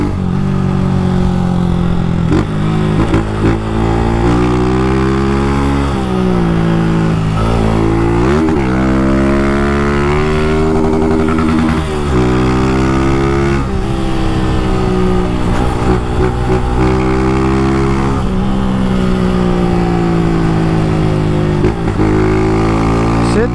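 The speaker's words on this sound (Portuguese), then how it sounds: "Barulho desse escape é bom demais, velho." A motorcycle engine rumbles and revs repeatedly with a deep, loud exhaust note, rising and falling in pitch throughout.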